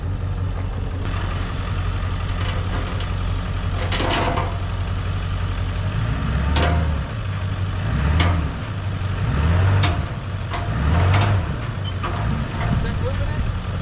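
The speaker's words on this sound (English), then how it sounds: "Got his truck pulled up there. We're going to get her straightened out." A pickup truck idles and shifts near a car-hauling trailer while it maneuvers to straighten a crooked car on the deck, the engine rumbling steadily with a few revving swells and clanks as people talk over it.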